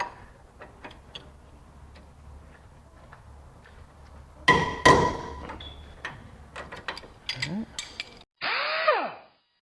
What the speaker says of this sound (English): I'm going to try to just use the regular breaker bar and a ratchet first